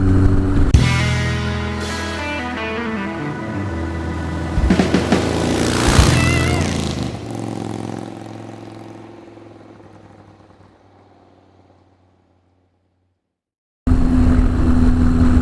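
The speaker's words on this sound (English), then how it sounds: "So today I've been out on a ride. I'm actually heading home now with the Cafe Racer" A Suzuki GS1000 cafe racer motorcycle out riding: a loud, rough engine drone with shifting pitch and revs, gradually fading away to silence, before the engine roar returns suddenly and loud at the end.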